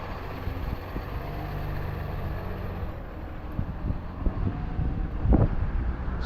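Wind buffets a microphone outdoors on a street walk in Lewiston, Maine. A continuous low rumble and gusty noise fill the clip, with traffic faintly mixed in and one louder gust near the end.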